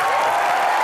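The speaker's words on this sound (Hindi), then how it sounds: "जोरदार तालियां हो जाए सर" Studio audience at a television comedy talk show claps in a brief, loud, dense burst of applause, continuous without pauses.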